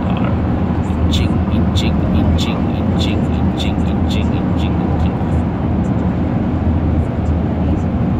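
Steady broadband road roar from inside a Kia Carnival with a 3.3 litre V6 cruising at highway speed while overtaking, a loud continuous rumble with faint repeated ticking or clicking above it and no clear talk.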